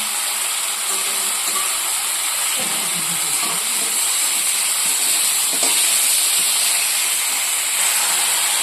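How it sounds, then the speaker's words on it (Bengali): Small fish frying in a pan with lemon leaves, producing a loud, continuous, even hiss of sizzling oil with faint clatter underneath. "এখন একটু ভেজে নিচ্ছি।"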